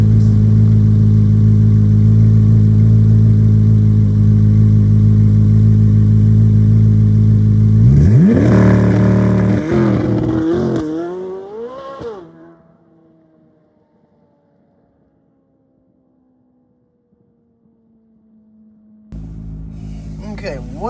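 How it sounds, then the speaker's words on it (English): A Chevrolet Corvette C8 Z06 holds a loud, steady high-rev drone at the line, then launches with a rising engine howl through quick upshifts that fades into the distance, leaving near silence before an idle returns. "That's how you do launch control on a Z06."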